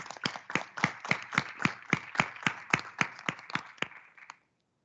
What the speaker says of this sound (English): I think we should give them another round of applause for all their good work.